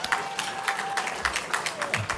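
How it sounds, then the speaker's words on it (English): Steady applause from a room of people at a Lincoln Day political dinner, a continuous patter of many hands clapping at moderate volume. "give everybody a round of applause"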